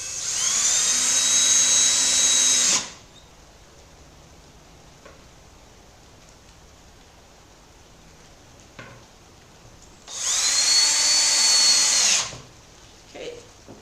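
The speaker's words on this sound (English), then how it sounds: "now I'm just going to drill them in" A power drill drives screws into pine in two loud whirring bursts of a few seconds each, separated by a quiet pause with faint handling clicks.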